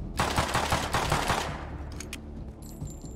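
Rapid bursts of automatic gunfire from the survival shooter Rust, loud and dense for about a second and a half, then fading into lighter scattered shots and faint clicks with no talking.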